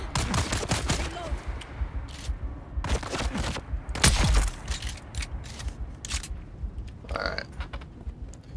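Gunfire in the video game Dune Awakening: bursts of rapid shots and mechanical clatter during a firefight, loud and close, with spoken voice mixed in.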